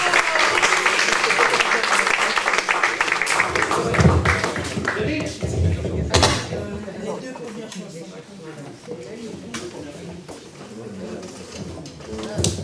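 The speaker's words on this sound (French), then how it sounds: "Alors, Gianni Bakela, je vous demande de l'applaudir," An audience at an Afro-themed evening gala applauds author Gianni Bakela, dense clapping loud and close at first, then thinning and tapering off, with voices talking over the fading claps.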